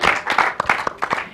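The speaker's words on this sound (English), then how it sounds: "you should all give yourself a round of applause for being here till the last day" An audience at the final day of a panel session on Arctic infrastructure gives a round of applause: loud, close, uneven clapping with distinct sharp claps picking out a loose rhythm.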